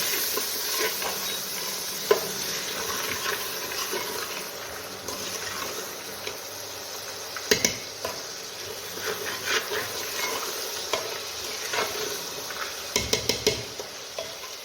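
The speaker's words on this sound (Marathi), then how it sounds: "भिजवलेले हरभरे टाकून घेऊ फिरवून घेऊया सर्व" A spoon scrapes and stirs soaked chickpeas in a pan, with a soft sizzle underneath and a few metallic clinks against the rim.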